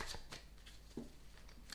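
Tarot cards being shuffled by hand, a few soft riffling flicks and taps spread irregularly over a quiet room, faint and close with no talking.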